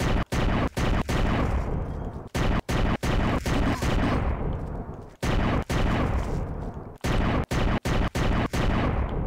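Rapid bursts of gunfire from the video game Down Below, set in a church of the undead, crack loudly in repeated clusters with brief pauses between volleys.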